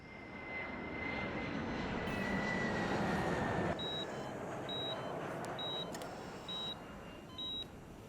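A propeller airplane drones steadily overhead as a film sound effect, a broad continuous engine roar with a series of regular electronic beeps, like a hospital monitor, sounding near the end.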